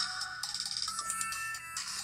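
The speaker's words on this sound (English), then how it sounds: "Oh, that's my phone." A mobile phone ringtone plays as a bright electronic melody of quick repeated tones, steady and fairly loud, with no talking over it.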